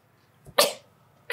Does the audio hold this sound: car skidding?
no